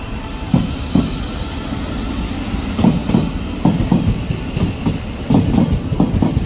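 A train rolls steadily through a station, its wheels clacking over rail joints in a loud, rhythmic pattern with a constant rumble and hiss underneath.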